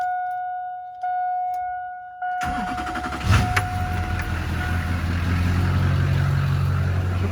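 A few soft electronic chimes, then a starter cranks briefly and an old, 54-year-old Chevy engine catches, settling into a loud, steady low rumble.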